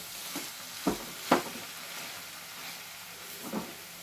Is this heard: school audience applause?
no